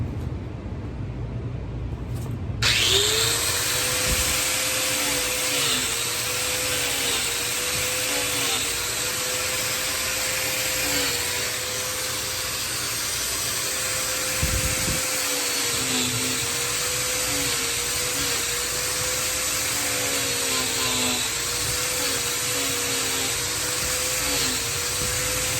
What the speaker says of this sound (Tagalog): inumpisahan ko na ang pag-grind dyan sa gilid ng gulong